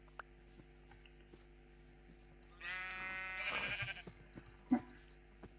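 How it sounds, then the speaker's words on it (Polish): A sheep in Minecraft survival gives one loud wavering bleat in the middle of a quiet stretch of faint clicks and low game ambience, and a sharp thud follows shortly after. "O, owieczki są, to zaraz pójdziemy na nie."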